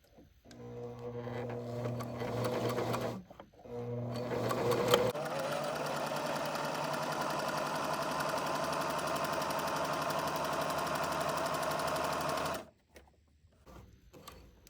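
A Singer 2517C sewing machine runs a straight stitch, close and steady, with two short starts followed by a long continuous run of even, rapid mechanical whirring before it stops; no talking.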